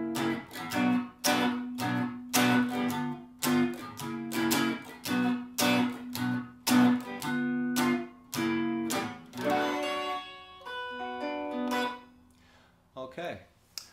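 Blues rhythm guitar played with three-note chord voicings in short choppy strummed stabs, then a few let-ring chords near the end, fairly quiet and close with no talking.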